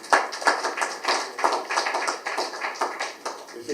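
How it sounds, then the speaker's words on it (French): An audience applauds at a public gathering, a steady patter of many hands clapping with uneven peaks, fairly close and continuous for a few seconds, no voices. "Nous pouvons encore l'applaudir à ce titre."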